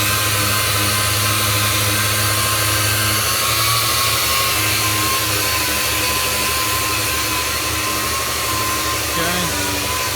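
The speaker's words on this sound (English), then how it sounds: "Johnny's just sanding out all the spots and getting rid of all the 220 scratches" Someone sands the body of a 1965 Falcon race car with a power sander, giving a loud, continuous whirring drone with steady grinding texture that barely changes throughout.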